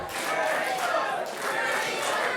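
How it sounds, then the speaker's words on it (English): Wrestling crowd at a UWA Elite independent show, a dense roar of many voices with rhythmic chanting and barking mixed in, steady and fairly loud throughout. "We hear the barks for Pittman, we hear the Vertigo chant"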